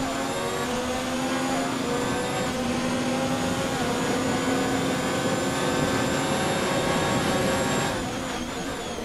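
Ferrari-powered Formula 1 cars in the racing game F1 2019 at the Australian Grand Prix in Melbourne, a steady high-pitched engine whine droning loud and continuous, with no talking.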